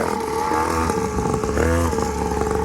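Motocross motorcycle engine revving nearby, a loud buzzing drone with a sharp rising rev surge in the middle before settling back.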